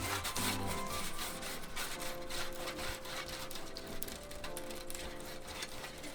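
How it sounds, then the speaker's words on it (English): Butter is rubbed across a baking sheet to grease it for piloncillo Mexican sweet bread pigs, a continuous close scraping and rubbing with small rattles of the pan. "you're going to grab the 2 tablespoons of butter and we're going to grease our baking sheet"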